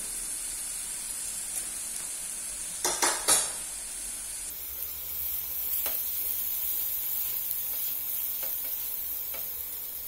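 Finely chopped onion sautés in a pan until it just changes colour, a steady soft sizzle carrying on throughout, with a brief cluster of scraping stirs near the middle and a few light clinks, close up and without speech.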